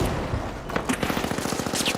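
Rapid automatic gunfire in the video game The Finals, a fast steady stream of evenly spaced shots that starts after a brief pause and keeps going loud and close to the end.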